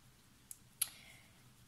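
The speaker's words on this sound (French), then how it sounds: "Excusez-moi, je fais du bruit avec le plat." An old warped baking tray clattering on a table while aging paper with a cup, heard as two short sharp metallic knocks, the second louder and ringing briefly, in an otherwise quiet room.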